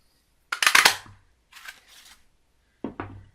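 Fox Builder Punch pressing through Whisper White cardstock: a loud cluster of sharp crunching clicks, then a fainter rustle, and later a second punch of two quick snaps, all close and with no talk.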